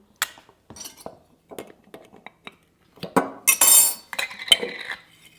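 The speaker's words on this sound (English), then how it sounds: "Here are some freeze-dried onions. I'm going to put about 1 cup in." Freeze-dried onions tumble into a pot of beans on a rocket stove, with a few light clinks and then a dense, rattling pour of dry pieces against metal, close and fairly loud.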